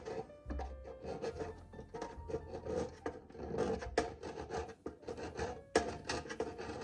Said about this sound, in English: you can take just a regular table knife and see if that will get it off